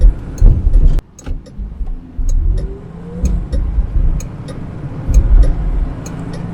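A 1965 Wolseley 24/80 six-cylinder car pulls away and shifts into second gear, the engine note dropping briefly at the change and then climbing again under a rising rev, close and fairly loud, with light rattles and clicks scattered throughout.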